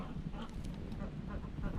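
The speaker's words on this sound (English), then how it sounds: "Got some noisy ducks here today." Ducks quack repeatedly on a farm, a dense, busy chorus of overlapping calls from several birds at moderate distance, continuing throughout without pause.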